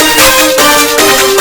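Layered, distorted clap samples in a rap beat, a few harsh, bright, noisy hits over a dense loud backing, close and punchy in a short loop.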